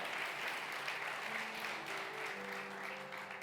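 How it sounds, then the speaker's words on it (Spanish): A church congregation applauds steadily throughout, a dense, even wash of many hands clapping at close range, with faint sustained tones beneath. "Denle el aplauso al Señor esta mañana"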